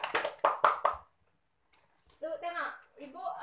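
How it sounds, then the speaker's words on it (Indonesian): A few quick claps in a primary school classroom for a student named Nisa, short and close, followed by a pause and then a teacher talking. "beri tepuk tangan untuk Nisa"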